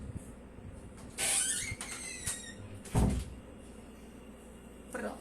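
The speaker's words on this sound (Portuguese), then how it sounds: "vou ter que fechar essa porta pra gente poder ficar mais à vontade" A door squeaks on its hinges as it swings, then shuts with a dull thump, followed by another short scrape in an otherwise quiet indoor room.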